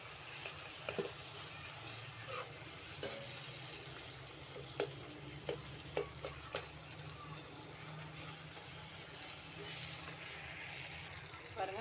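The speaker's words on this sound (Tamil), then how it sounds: "இப்போ கரண்டியெல்லாம் நம்ம நல்லா மசிச்சு விட்டுக்கலாம்" Cooking tomatoes for a Mumbai-style brinjal gravy mashed with a ladle in a pan, soft simmering sizzle with irregular clinks and scrapes of metal, quiet and close.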